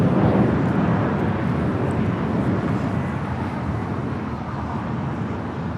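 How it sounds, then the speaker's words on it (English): A Lufthansa Airbus A340-300 arriving from Frankfurt at Los Angeles International Airport, its steady broadband jet roar loud and close, easing slightly over the seconds with no voices. "Lufthansa Flight 450 coming in from Frankfurt, A340-300"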